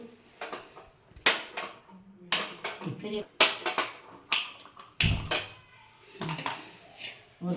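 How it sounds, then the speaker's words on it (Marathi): A gas stove being lit in a home kitchen, giving a string of sharp, close clicks and taps in irregular bursts, with voices and kitchen clatter nearby. "आता ही गॅस पेटून घेते"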